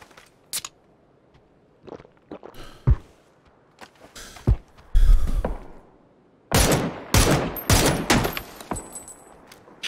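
Gunfire in PUBG: scattered single shots and short bursts, several sharp cracks early on, then a dense, loud cluster of rapid shots toward the end, with no talking.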